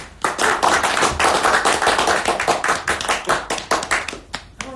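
Audience applause at a live motivational Q&A event, dense steady clapping from many hands that fills the room and begins to thin out toward the end.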